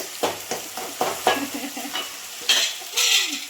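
Ginger garlic paste fries in a pan for a homemade fish curry, loud and close, with a crackling sizzle and a run of rhythmic stirring scrapes and spatula knocks about every half second.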